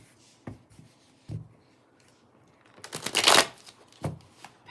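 A Game of Thrones tarot deck is shuffled by hand: soft taps and a few brief card riffles, then one louder, longer riffling burst and a final tap, all close by with no voice.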